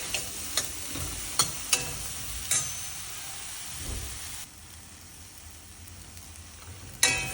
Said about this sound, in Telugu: కొంచెం ఆయిల్లో వేయించుకుంటే పచ్చి వాసన పోతుంది